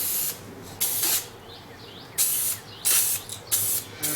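Several hissing bursts of adhesive sprayed from an aerosol can while building a ceiling tunnel, each burst lasting about half a second with short quiet gaps between them, close and fairly loud.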